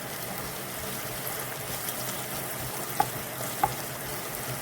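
Onions, green chillies, ginger and curry leaves fry in a pan with turmeric being stirred in for Kerala moru curry, a steady close sizzle with two brief sharp clinks of a utensil near the end.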